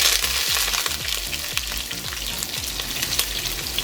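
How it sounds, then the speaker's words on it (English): Chopped onions, curry leaves, scallions and pimento peppers sautéing in hot oil for a duck curry, a loud close sizzle with spattering and stirring scrapes, no voices. "we're going to allow this to saute until it's brown or light brown in color, but you don't want to burn it"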